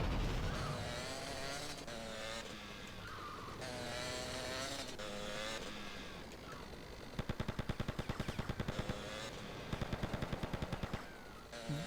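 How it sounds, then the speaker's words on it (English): An MP5 submachine gun in the video game GTA Liberty City Stories fires in two rapid full-auto bursts late on, loud sharp cracks following engine and game noise, with no talking. "Why am I using this MP5 when I have a better gun?"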